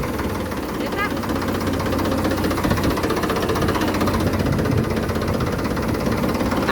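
A farm tractor engine runs with a steady, rumbling drone close by, holding an even level throughout while people talk over it.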